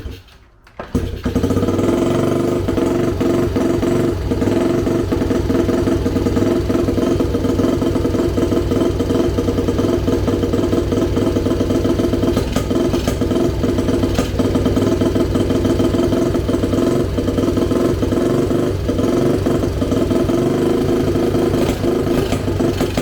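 Honda XR70 motorcycle with an 88cc big bore kit starting after a rebuild, catching within a second and then idling with a steady, loud, close mechanical putter for the rest of the clip.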